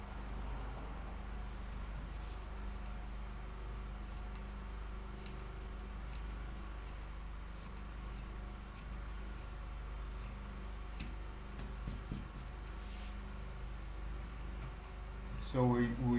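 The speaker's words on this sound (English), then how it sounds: "So we trim off all the little excess yoke that is just popping out here and there." Scissors trimming excess fabric from an inner back yoke of a garment, heard as a series of faint, crisp snips in a quiet room with a low hum underneath.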